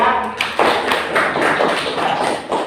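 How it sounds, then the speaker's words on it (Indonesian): Applause from a classroom group for a presenting team during a teaching practice session, a short burst of dense, close clapping that carries steadily through. "Tepuk tangan untuk kelompok 3."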